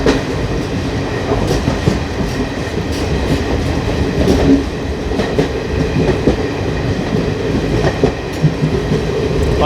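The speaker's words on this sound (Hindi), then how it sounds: "अब यहाँ से हमारी ट्रेन 40-50 के आसपास की स्पीड" A Vistadome passenger train on the scenic Ranchi to Giridih line in Jharkhand, rolling at moderate speed with a loud, constant rumble and a rhythmic clickety-clack of wheels over rail joints, heard from inside the coach with no talk.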